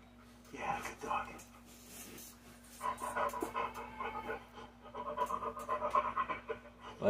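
A dog pants in quick rhythmic bursts in the Blair Witch video game, close and moderately loud, under a low steady hum, with faint voices around.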